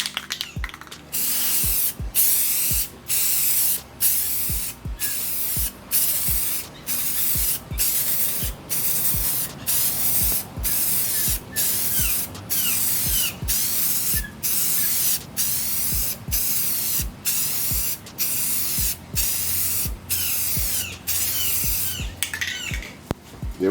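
Rust-Oleum gloss black spray paint hisses onto a 12x12 ceramic tile in steady bursts, about twenty short sprays with brief clicking pauses between them, close and loud, with no talking.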